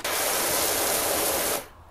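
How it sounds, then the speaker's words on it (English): Steady, close pressure-washer spray from the automatic nozzle in PowerWash Simulator, a continuous broadband hiss held for about a second and a half before cutting off abruptly into near silence. "This automatic spray, cool."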